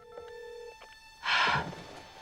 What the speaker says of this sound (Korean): 그리고 시저가 시체를 처리할 준비를 한 동안 몰래 코키에게 전화를 거는 바이올렛.